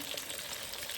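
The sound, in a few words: water poured into the frying pan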